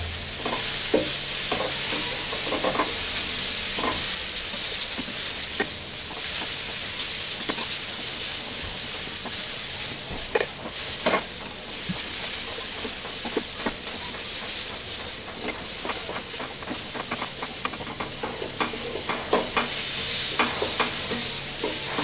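Green capsicum gone yellow fries lightly in a pan, a steady close sizzle with frequent crackles and occasional scraping stirs across a long stretch.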